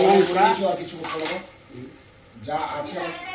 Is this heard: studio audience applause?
no